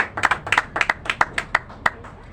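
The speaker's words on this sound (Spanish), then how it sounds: "Dele palmas al Señor" A church congregation claps hands for the Lord in a quick, uneven rhythm of sharp near claps that thins out toward the end.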